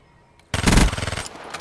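Vesper submachine gun firing in Call of Duty: Black Ops 3, a sudden loud burst of rapid automatic shots with a heavy initial blast that tapers into a fast rattling stutter, close and alone.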